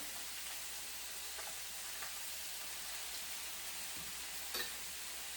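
Stuffed tofu cooks in a pan with a constant soft sizzle and faint stirring scrapes, heard close and alone.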